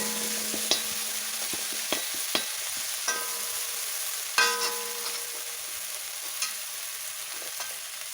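Coarsely ground ginger and garlic paste being stirred and fried in a pan for Kerala-style beef curry, with a steady sizzle broken by several sharp scraping and stirring clicks of a spoon, close and alone without talk.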